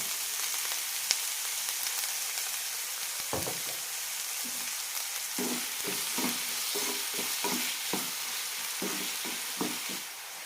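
Tomatoes and other ingredients for a sesame seed chutney sauté in a pan, with a steady sizzle and repeated scraping stirs of a spoon, close and fairly quiet.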